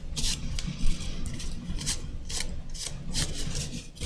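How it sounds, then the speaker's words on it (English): Rhythmic scratchy strokes of rubbing over corrugated paper to texture an art journal piece on burlap; dry, close rasping bursts repeat several times a second without talk. "you can even give them more texture by just rubbing over the top."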